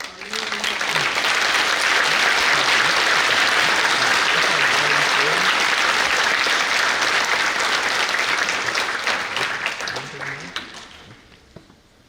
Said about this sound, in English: Could we please give a round of applause for our new